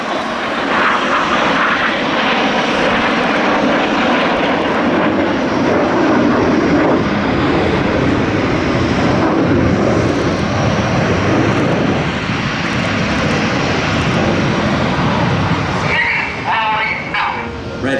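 Red Arrows Synchro pair jets fly past upside down at the 2016 East Fortune air show, a loud sustained jet roar swelling and holding for many seconds, with a voice heard briefly near the end.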